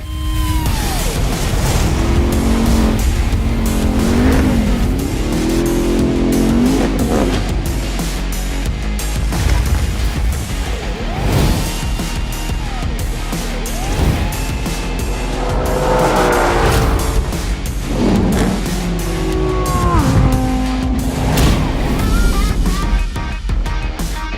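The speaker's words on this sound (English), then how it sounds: "we're doing elimination-style drag racing" Cars launching and accelerating hard in an elimination-style drag race, including a Porsche Cayenne Turbo Coupe and a pickup truck, loud roaring engines with rising revs, gear shifts and tire squeal sustained throughout, no talk.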